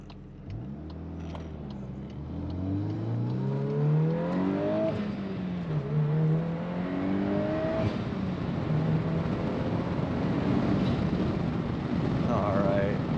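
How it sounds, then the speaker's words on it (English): A 2024 Volkswagen Golf R with a manual gearbox accelerates hard, its turbo engine note climbing and falling through several gear changes, heard from inside the cabin with the window cracked and a steady loud roar throughout. "I'm gonna try to crack the window and see if I get you guys some of that turbo-y noise"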